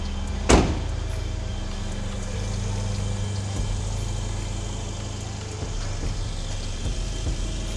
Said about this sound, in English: let me close the door for visual effects